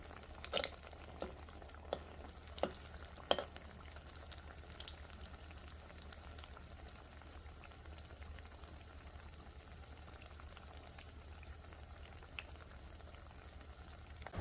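Potato, pointed gourd and eggplant chops in gram-flour batter fry in oil over a low flame, giving a faint, steady sizzling hiss dotted with small crackles and pops, with no voices.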